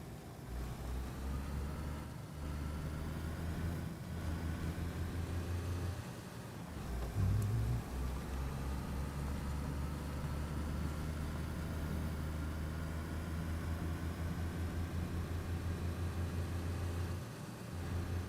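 A car engine in DayZ on the Livonia map drones steadily and close up, a low rumbling hum that holds nearly the whole time, with a brief dip and a short rev or bump midway.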